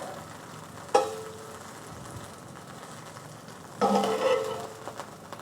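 Chicken and onions fry in a pan with a quiet, steady sizzle, and two sharper bursts of crackling swell as food hits the hot oil or gets stirred.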